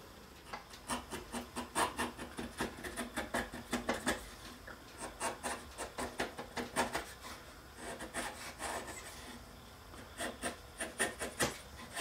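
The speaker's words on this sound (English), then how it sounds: "I'm just going to take a chisel and ever so lightly, I'm just going to clean those up to flatten them out" A chisel lightly pares and flattens a small wooden piece, making faint, rhythmic scraping strokes in quick repeated bursts with short pauses between.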